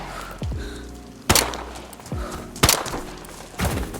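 Three sharp, loud rifle reports from the Sporter in DayZ, evenly spaced about 1.3 seconds apart, each a hard crack followed by a short, falling rumble that decays before the next shot.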